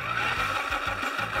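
A small 12V electric motor spins an unbalanced rotor on a homemade electric kite, producing a steady, close whirring hum with a rapid periodic wobble.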